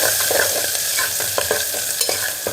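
Green chillies and chopped onion fry in hot oil, a steady close sizzle broken by repeated scrapes and knocks of a spoon stirring the pan.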